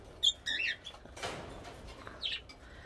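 Pet parrots flap and flutter in short bursts while flying freely around a room, with a few sharp chirps between the wingbeats; close and fairly quiet, with no talking.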